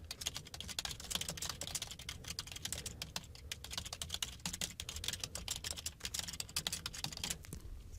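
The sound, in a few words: typing on a computer keyboard, writing post content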